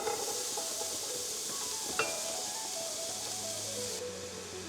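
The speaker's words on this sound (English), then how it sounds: "we're gonna use it to cook off the onions and the celery" Onions and celery cook in rendered fat in a pan, giving a steady close hiss and sizzle with a faint clink of a utensil partway through and no talking.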